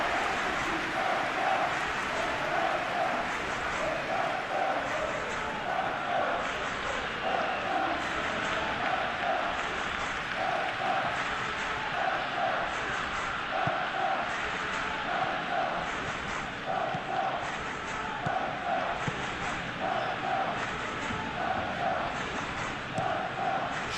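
A simulated stadium crowd in the football video game PES 21, during a Barcelona versus Newcastle match, keeps up a steady, broad roar of chanting and murmuring throughout, with a commentator's voice over it.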